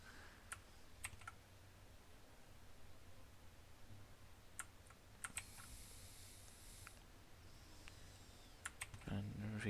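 Code is typed on a computer keyboard during a C# ASP.NET project, soft key clicks in quick irregular bursts with scattered louder taps, quiet and close against a faint room hum.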